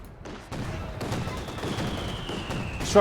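Mortar fire and gunfire in Company of Heroes 2 strike a machine gun team: a dense battle din with rapid shots and dull thuds, loud and continuous after a quiet start.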